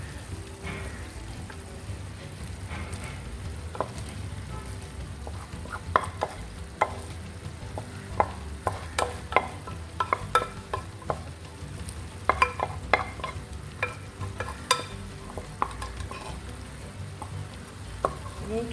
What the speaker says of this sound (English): After adding our rice, we are going to mix it up.